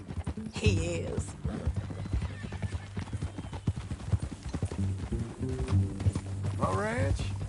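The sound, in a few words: horse hooves and neighing, Red Dead Redemption 2 video game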